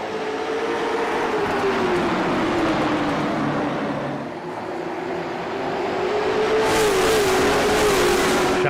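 Race cars starting a race at Martinsville, a loud continuous engine roar rising and falling as the pack accelerates, with a brighter surge near the end and no voices.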